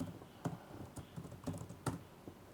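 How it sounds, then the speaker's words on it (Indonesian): Code being typed on a computer keyboard, a sparse, irregular run of close, quiet key clicks with a few sharper taps and no voices. "Kita ketik for"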